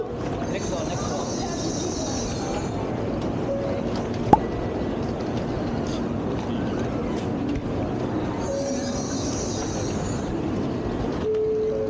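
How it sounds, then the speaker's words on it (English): Steady rumble and rattle inside a moving Japanese bullet train, a continuous rolling roar with faint squeals and a brief click partway through. "This is also our first time riding the bullet train"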